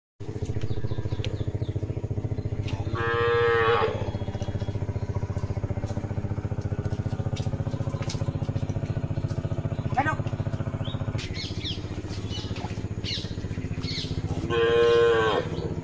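Cattle moo loudly and repeatedly, close by, as a woman herds them into a village cowshed in the Sundarbans during stormy, rainy weather; a steady low background hum runs underneath throughout.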